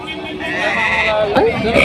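A goat bleats once, wavering and fairly close, over a crowded background of people talking at a sheep and goat market.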